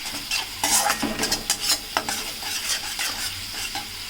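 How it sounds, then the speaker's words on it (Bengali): Spice masala stir-fried with whisked sour yogurt over a low flame for cauliflower kofta curry, a close, steady sizzle broken by repeated scraping stirs of a spatula in the pan. "এবার ভালো করে টক দইটা মশলার সাথে কষিয়ে নিতে হবে"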